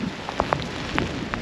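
Rain patters on the deck of a Beneteau Antares 10.80 motor boat on a wet, windy day, a steady hiss broken by a few sharper drops hitting nearby.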